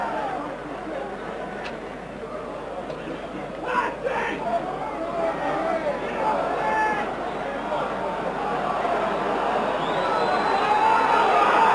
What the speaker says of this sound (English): The crowd getting impatient